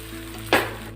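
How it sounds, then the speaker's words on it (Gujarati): Pieces of instant rava (semolina) dhokla are gently turned in hot tempering in a pan, giving a steady low sizzle with one sharp, brief hiss midway as the pieces are lifted and flipped. "આ રીતે આપણે ઉપર નીચે કરીને એને હલાવશું, જેથી કરીને એના પીસીસ છે એ ભાંગી ન જાય."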